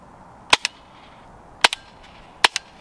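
An airsoft gun fitted with an AceTech BiFrost tracer unit fires standard BBs: three sharp, close shots spaced about a second apart, each a crisp crack followed by a softer second click, over a quiet background.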